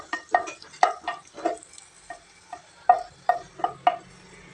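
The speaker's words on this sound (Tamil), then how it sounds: "கடுகு பொரிஞ்சிடுச்சுங்க." Mustard seeds splutter in hot oil in a pan, a burst of sharp, irregular pops and crackles close by with no voices over them.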